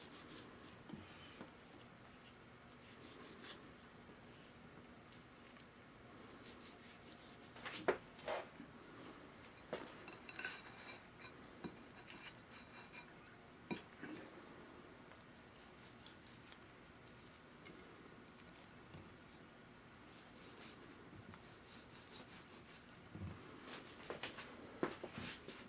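A sharp knife slicing through rolled cinnamon bun dough filled with raisins, giving soft, faint rubbing and scraping strokes with occasional light taps, close and quiet, with no talking.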